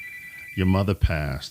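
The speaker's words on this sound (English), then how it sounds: "I'm sorry about my phone. I should have put it on mute." A mobile phone ringtone chimes steadily at the start, then keeps sounding faintly under a man's speech that follows.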